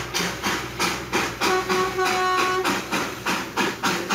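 A coal-fired steam toy train on the Darjeeling Himalayan Railway chuffs in a regular rhythm of loud, close exhaust beats with hissing steam between them.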